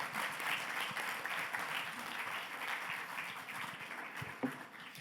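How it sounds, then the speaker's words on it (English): Conference audience at a cancer and melanoma session applauds its speakers: steady, dense clapping from many hands, moderately distant and fairly quiet, sustained evenly throughout. "Let's give them a round of applause."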